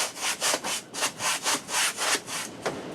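Rhythmic back-and-forth sanding strokes scuff the glossy plastic bed of a Honda Pioneer UTV, about a dozen bright rasping passes in steady rhythm, close and fairly loud with no talking.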